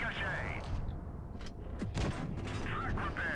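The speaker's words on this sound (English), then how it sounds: "Here comes the KV-1S again, still firing HE by the looks of it" KV-1S tank firing HE shells in World of Tanks Blitz: dense game battle noise with sharp cannon blasts and booms over a constant low mechanical rumble, with a voice talking over the action.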